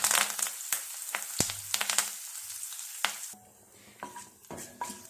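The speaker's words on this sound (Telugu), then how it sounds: "ఇప్పుడు ఇదే నూనెలో కరివేపాకు వేసుకోవాలండి." Curry leaves crackle and sizzle as they hit hot oil for ivy gourd fry, bursts of spluttering with sharp spattering pops and a few utensil clinks, settling into a quieter, steady fry toward the end.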